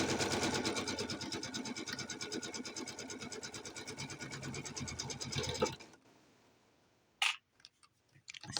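A sewing machine stitches two sides of a reversible quilt together with black thread, a steady fast whirring rhythm for several seconds that stops abruptly, followed by a few faint handling clicks.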